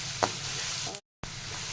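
An onion tempering for kande pohe sizzles steadily in a pan with a quiet, even frying hiss, a stirring scrape near the start and a short gap of silence midway.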